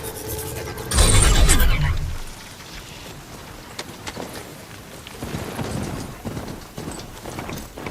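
Horse hoofbeats in Horizon Zero Dawn Remastered clatter in a short, loud burst of clip-clop, then fade into softer rustling ambience.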